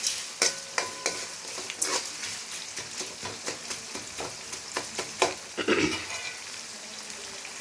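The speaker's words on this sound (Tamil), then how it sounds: "கொஞ்சம் நல்லா வதங்கட்டும், அப்போ தான் உப்புமா டேஸ்ட்டாக இருக்கும்" Onions frying with a little salt in a pan for wheat upma, giving a steady close sizzle broken by repeated scraping and clicking stirs, with no talk.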